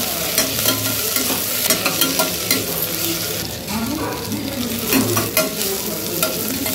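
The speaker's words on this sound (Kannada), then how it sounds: "ಹಸಿಮೆಣಸಿನ್ಕಾಯಿ ಕೂಡ ಹಾಕಿ ಫ್ರೈ ಆದಮೇಲೆ ಕೊತ್ತಂಬರಿ, ಕರಿಬೇವು, ಪುದೀನ ಇವಾಗ ಒಂದ್ಸಲ ಹಾಕ್ಕೊಂಡು ಫ್ರೈ ಮಾಡ್ಕೊತಾ ಇದ್ದೀನಿ" Onion, green chilies, coriander, curry leaves and mint fry in ghee and oil in a pan, giving a close, continuous sizzle broken by stirring scrapes and clicks, with no talking.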